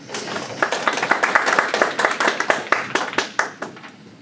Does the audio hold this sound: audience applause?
yes